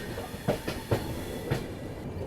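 A Jammu Tavi Humsafar superfast express rolls along the Delhi ring railway through a congested built-up stretch, its wheels beating a steady clickety-clack with several distinct rail-joint knocks over a continuous close rumble.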